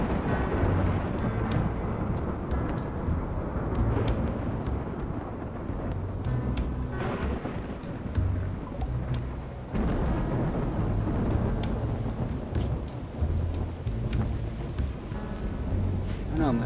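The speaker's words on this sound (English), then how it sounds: "It's a dry thunderstorm now" Dry thunderstorm in the video game Rimworld, a dense, continuous low rumble of thunder with rain-like hiss, loud and sustained with surging swells, and some voice mixed in.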